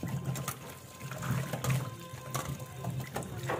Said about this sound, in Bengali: তো আমগুলো ধুয়ে নিচ্ছি